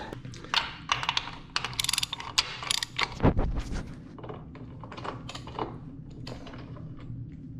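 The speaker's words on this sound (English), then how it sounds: "First we got to break this castle nut loose." Half-inch drive ratchet working a castle nut on a Gen 1 Suzuki Hayabusa: bursts of sharp, close metallic clicking, then a heavy crack and thud midway as the nut breaks loose, followed by more scattered clicks. No talking.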